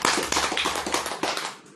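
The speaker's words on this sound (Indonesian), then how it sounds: "Tepuk tangan" A crowd applauds at an Indonesian religious lecture on makrifat teaching: dense, steady clapping from many hands that fills the room continuously and tapers slightly at the end.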